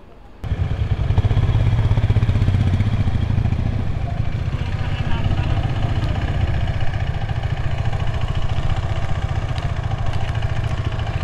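Four motorcycles, including Royal Enfield bikes, idling together at a highway toll plaza, a loud steady low-pitched engine chug that kicks in abruptly and holds near and constant, with faint voices beneath.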